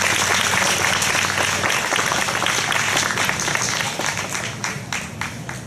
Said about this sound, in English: Let's have a round of applause for our elected officials.